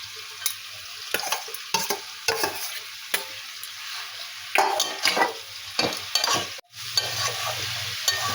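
Fried greens (kalmi saag) and fried eggplant are stirred in a pan, with repeated sharp scrapes and clacks of the spatula against metal over a continuous close sizzle.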